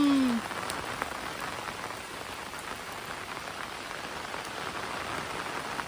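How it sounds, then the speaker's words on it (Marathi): Steady heavy rain pours down in a dense, continuous hiss, close and loud throughout, with a brief tonal sweep at the very start. "आज मुसळधार पावसाचं आगमन झालेलं आहे बघा"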